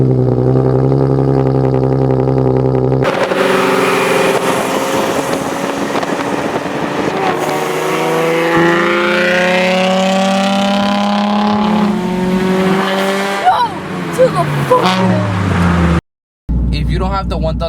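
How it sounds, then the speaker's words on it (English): A Nissan 370Z with an aftermarket exhaust starts and rumbles at idle, then revs and accelerates past with rising and falling exhaust roar, wind buffeting the microphone near the end. "I'm gonna include a little clip of the startup and the car driving around right now."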